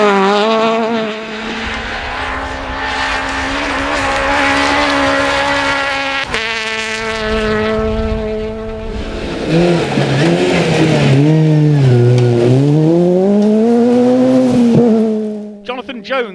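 Ford Fiesta R2 rally car on a Welsh forest stage, its engine revving hard and rising and falling through gear changes, loud and close throughout, with pace-note speech over it.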